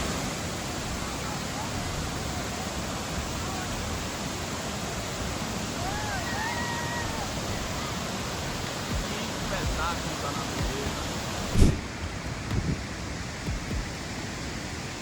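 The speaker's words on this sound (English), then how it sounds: "Very beautiful waterfall." Pacanda Grande waterfall in Bahia, Brazil pours with a constant broadband rush that fills the whole stretch, with faint voices and a brief thump near the end.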